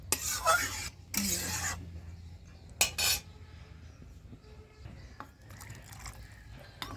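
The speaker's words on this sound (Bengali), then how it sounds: "একটু নাড়া দেওয়া" Spoon or spatula stirring cabbage fry in a metal pan, with several scraping clatters at the start and a quieter simmering sizzle afterward, close by with no talk.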